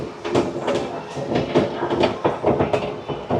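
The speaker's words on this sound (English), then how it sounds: "On a little train ride here at the American Dream Mall." A small ride-on train rolls through the American Dream Mall, its wheels clattering in a steady, uneven rhythm with faint squeaks and mall ambience, close and moderately loud.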